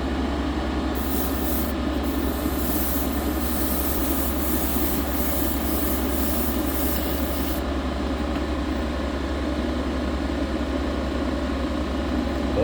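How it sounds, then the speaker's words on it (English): A new airbrush sprays a steady hiss that runs continuously and fairly loud, with brighter airy bursts in the first part as the tip is rotated, no talk. "I'm going to rotate this tip a little bit, see how it sprays the other way."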